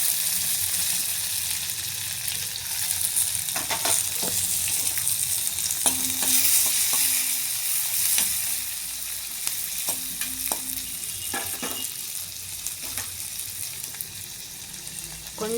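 Onion, green chilli, curry leaves and tomato pieces fry in a hot tempering for a curry, producing a continuous loud sizzle with scattered scraping and stirring knocks and no voices.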